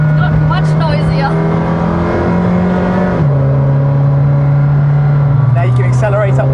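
A McLaren Senna engine hums at low revs from inside the cabin while driving, a steady drone that shifts pitch slightly, with people talking over it.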